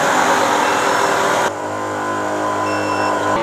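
A wevac CV10 vacuum sealer runs its smart vac cycle with a loud, steady motor drone. Partway through, the sound drops abruptly into a lower, even hum with faint tonal whines, close and continuous.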